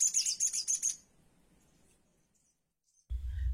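A caged sogon bird sings a quick run of bright chirps for about a second, then falls silent, and a low thump cuts in at the end.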